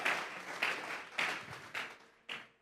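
A church congregation offers applause in five short, separate bursts of clapping, each swelling and fading quickly at moderate loudness, with no voices over it.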